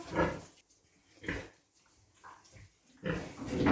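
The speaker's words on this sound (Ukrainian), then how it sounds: "Це поросятка льохині." Several piglets grunting and squealing close by in short bursts separated by brief pauses.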